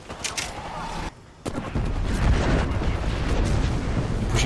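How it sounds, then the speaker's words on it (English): Explosions and gunfire erupt in an Apex Legends-style battle royale match after an airstrike warning, with dense booming blasts and rapid shots, a brief dip near one second, then sustained loud barrage. "Watch out for the airstrike."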